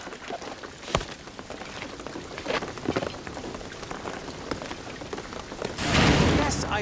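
Steady rain in the Shadow of the Tomb Raider video game patters and splashes on surfaces, with a few sharper drops and a louder gush of rain near the end, alone without talking.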